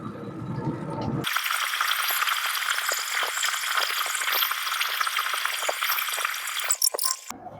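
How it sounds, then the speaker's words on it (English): Chicken quarters coated in Sweet Baby Ray's barbecue sauce sizzle loudly and steadily on a smoker, a dense crackling hiss that starts abruptly after a quiet second and runs unbroken until cutting off near the end. "Sizzling right up."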